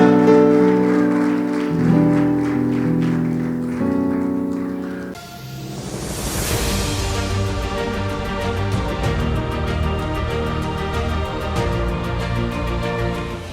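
Church congregation at a Spanish-language service applauds, a broad, hissing wash of clapping that rises midway and continues over sustained music with steady tonal notes.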